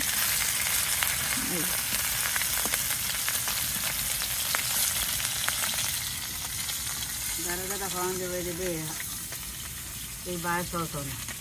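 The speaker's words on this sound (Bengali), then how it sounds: "জাটকা মাছ প্রথমে একটু ভাইজা নিতেছে" Jatka, young hilsa fish, frying in a pan makes a continuous loud sizzle, with a few brief voice-like sounds poking through around the middle and end.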